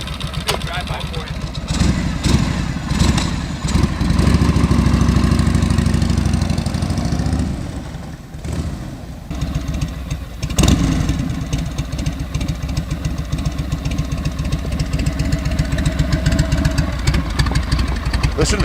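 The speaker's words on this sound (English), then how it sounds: "Listen to the tick over on this thing. That's an idle you're only going to get from a shovel head or an iron head." A 1981 Harley-Davidson Road King with a shovelhead engine idles loud and close, a steady low lumpy tick-over with a heavier surge in the middle, under occasional talk.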